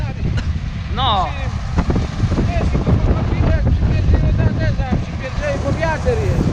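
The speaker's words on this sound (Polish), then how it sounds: "Bo wiatr jest." Strong wind buffeting outdoors on a farm during harvest, heard as continuous low rumbling gusts against the microphone, with people talking throughout.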